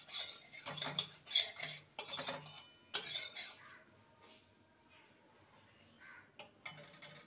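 A metal utensil scrapes and clinks against a pan while butter or refined oil is spread around it, in a few quick bursts over the first few seconds before fading to near quiet.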